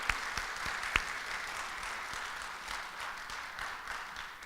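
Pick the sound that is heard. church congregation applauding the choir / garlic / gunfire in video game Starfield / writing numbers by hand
church congregation applauding the choir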